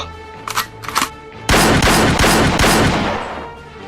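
Gunfire in a narrated story as a man draws a gun on a rare wolf: a burst of loud, rapid shots, close and harsh, rolling for about two and a half seconds after a couple of brief, sharper clicks.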